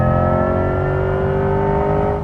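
A 2024 Corvette E-Ray hybrid, pairing a V8 with an electric motor, accelerates close by in a steady, loud run: a sustained engine drone with a high, even whine layered above it, holding level before easing off at the very end.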